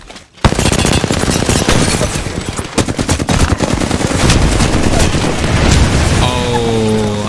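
Rapid automatic gunfire from Apex Legends crackles loud and close in dense sustained bursts after a brief quiet start, ending with tonal in-game effect sounds layered over the shooting.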